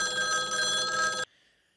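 A telephone bell rings in one continuous loud metallic burst lasting over a second, then cuts off abruptly into quiet, with no voices present.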